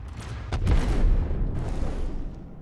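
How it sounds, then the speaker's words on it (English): Missiles explode in the space game Star Citizen, making a loud, rumbling blast with a couple of sharp crackling bursts that roll on in a sustained low roar. "that's a beautiful explosion"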